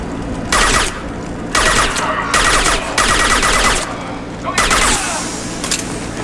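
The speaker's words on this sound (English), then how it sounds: "The Blue Suns and Vorcha are shooting anything that moves." Repeated bursts of automatic gunfire in Mass Effect 2 as Blue Suns mercenaries and Vorcha shoot at anything, loud and close with brief pauses between volleys, under speech.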